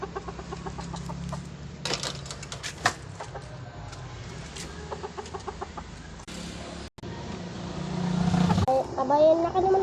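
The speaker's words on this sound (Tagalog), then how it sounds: "Tingnan niyo po yung manok ko." Farmyard chickens clucking near a family home where a duck is being slaughtered, scattered short calls over a steady background with voices talking and a passing vehicle.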